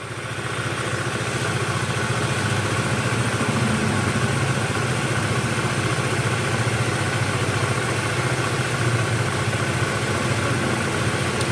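A Honda Vario 110 scooter engine idles during a carburetor adjustment, a steady, close, even putter that holds constant for the whole stretch with no voices.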